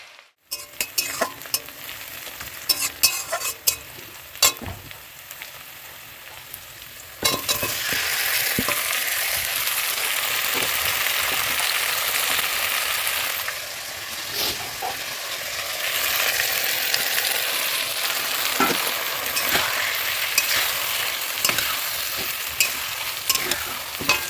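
Chicken feet frying in a pan, a continuous spattering sizzle with scraping stirs and utensil knocks that swells louder partway through and keeps crackling steadily.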